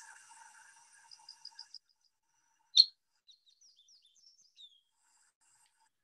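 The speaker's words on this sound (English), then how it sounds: "It has a very distinctive rolling song that I'm gonna play for you right now." A recorded fox sparrow song plays, a quiet run of rolling chirped notes followed by one sharp loud call and a few faint scattered high notes against near silence.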